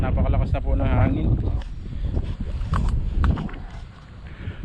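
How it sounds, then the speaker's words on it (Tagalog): Strong wind at sea on a fishing outing roars as a loud, steady low rumble buffeting the microphone, with someone talking over it. "napakalakas na po ng hangin"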